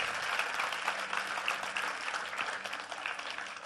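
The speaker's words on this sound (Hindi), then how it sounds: "आज तक के लिए भी तालियां।" Audience applause at a Manoj Muntashir event, a steady wash of many hands clapping that runs throughout at a moderate, somewhat distant level with no talk over it.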